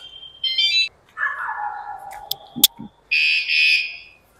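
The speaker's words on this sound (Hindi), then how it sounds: "इसने जैसे ही हम बाइक हिलाते हैं वैसे ही" Anti-theft security alarm on a motorcycle sounding close by in loud electronic bursts: two high warbling tones, a falling sweep, a sharp click, then another long high tone.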